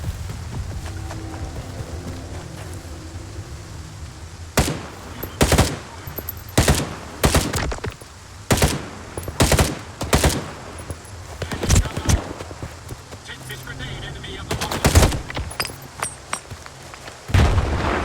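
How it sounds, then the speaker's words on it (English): Machine gun fire in the video game STALKER 2, bursts of sharp gunshots that come in irregular volleys over a low ambient background, some loud and close, with gaps between them. "Where's that gunfire coming from?"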